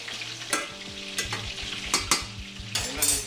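Meatballs fry in a pan with a steady sizzle, while a utensil scrapes and stirs every second or so in close, moderately loud strokes.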